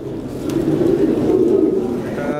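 Fancy pigeons, including blue barred German-type birds at a pigeon farm sale, coo close by in a steady, continuous rolling drone that lasts the full stretch, loud and near.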